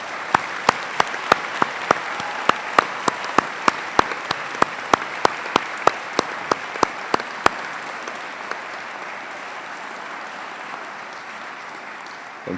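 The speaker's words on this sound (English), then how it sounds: "Graduates, would you please join me in a round of applause to thank the staff?" Graduates at a Swinburne graduation ceremony applaud the staff: a broad wash of crowd clapping with distinct loud individual claps standing out, then fading away toward the end.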